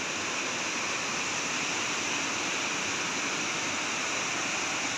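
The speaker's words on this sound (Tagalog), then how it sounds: "galing sa falls dahil kakaulan lang kaya napakalakas ng current ng tubig" Hinguiwin Falls in Padre Burgos, Quezon, runs with a strong current after recent rain, giving a loud, unbroken roar of falling water throughout.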